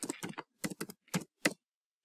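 Bursts of fast keystrokes on a computer keyboard while Python code is typed, coming in short clustered runs separated by brief pauses, close and clear with no talking.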